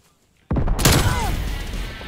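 Burst of gunfire in Call of Duty: Black Ops Cold War, breaking in sharply after near silence and trailing into a loud, ringing rumble with a whistling tail.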